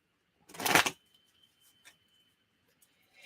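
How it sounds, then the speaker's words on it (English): A Tarot of Dreams card deck shuffled by hand: one loud, close riffling burst of cards lasting about half a second, followed by a few faint ticks and taps in a quiet room. "let me just shuffle real quick here"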